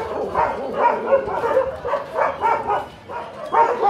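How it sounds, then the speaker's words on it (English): A dog barks repeatedly at close range in Kathmandu, Nepal, a steady run of sharp barks every half second or so, with no one talking. "non-stop dog barking."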